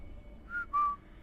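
Two short whistled notes from a person, the first brief and slightly higher, the second longer and louder, alone over a quiet room hum.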